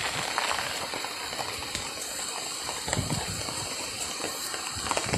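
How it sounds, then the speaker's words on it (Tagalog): Heavy rain falls in a steady, dense hiss with a constant loud wash of water and no pauses, on a muddy rural path. "dahil malakas yung ulan."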